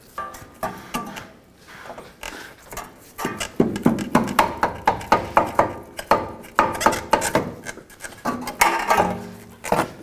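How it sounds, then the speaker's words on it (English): A lower forward control arm is wiggled out of the front suspension of a 2004-2008 Acura TL, giving a run of close, irregular knocks, clunks and scraping rattles of metal against metal, with no voices. "Push the knuckle to the side, and then just kind of wiggle the control arm out of here."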